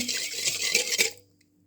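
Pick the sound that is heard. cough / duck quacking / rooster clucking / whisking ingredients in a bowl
whisking ingredients in a bowl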